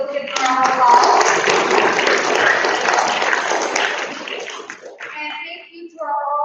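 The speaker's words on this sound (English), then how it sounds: "let's give them a round of applause" At a county spelling bee, the audience claps for the judges in a full, steady round that fades after about five seconds, followed by a voice speaking alone.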